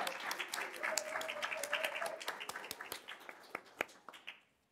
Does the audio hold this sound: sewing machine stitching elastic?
no